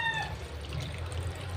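Water poured into a cooking pot of fish stewing in vinegar, a soft steady pour and trickle under a low background hum, faint and continuous throughout.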